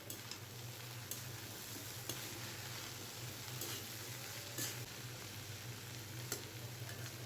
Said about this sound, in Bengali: এখন একটু নাড়াচাড়া দিয়ে দেখি।